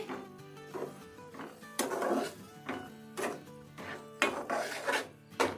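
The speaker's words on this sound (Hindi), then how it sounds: "और अब इन तमाम मसालों को अच्छी तरह मिक्स करेंगे।" Turmeric, chili powder and cumin stirred into bitter gourd seeds in a pan, with close rhythmic scraping and rubbing strokes of a spoon against the pan repeating every half second or so.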